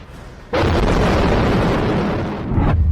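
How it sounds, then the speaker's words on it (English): A powerful blast from a night drone attack on the city of Rylsk in Russia's Kursk region bursts in suddenly as a loud, broad roaring boom that holds for about two seconds before cutting off abruptly. "The moment of one of the powerful explosions was caught on video."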